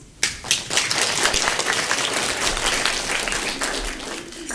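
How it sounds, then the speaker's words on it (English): An audience at a youth conference on Ukraine's future gives a round of applause for European guests, a sudden burst of many hands clapping that stays loud and dense before easing slightly at the end. "Let's give them all the round of applause, please"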